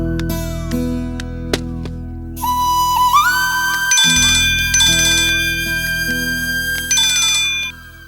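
A mobile phone ringtone for an incoming call plays loud and alone as a repeating electronic melody, with tonal phrases continuing for several seconds before stopping.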